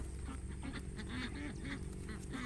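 Flock of ducks quacking nearby, a dense chatter of short nasal calls with several overlapping birds, heard over a steady background hum.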